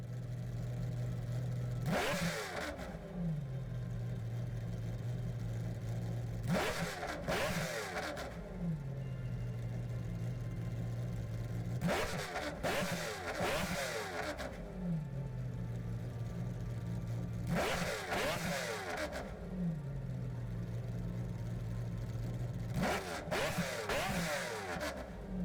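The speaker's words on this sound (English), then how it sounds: "A very big one for Engineswaps, which is coming from the McLaren F1 GTR race car." McLaren F1 GTR race car V12 engine in Gran Turismo 7, revving hard in five repeated bursts that climb steeply and drop back to a steady idle between them, loud and close with no talk.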